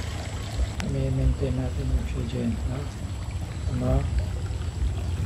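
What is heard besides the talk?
aerator stirring water in tilapia pond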